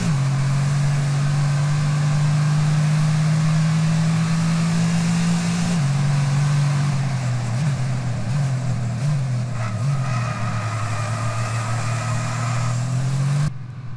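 Steady engine drone from the safety car in F1 22, holding a constant pitch then shifting through a few gear-like steps and dips near the end, loud and continuous with no talking.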